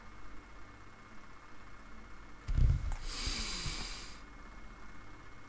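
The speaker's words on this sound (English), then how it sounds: "Sorry for the heavy breathing, guys, but allergies been living hell today." Heavy, congested breathing from someone suffering allergies, a single loud snort-like inhale and exhale close to the microphone, with a hissy breath trailing off over low background hum.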